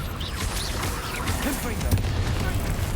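Confringo and Bombarda spell blasts in the video game Hogwarts Legacy: repeated booming bursts and crackling impacts in quick succession, loud and busy like a fusillade.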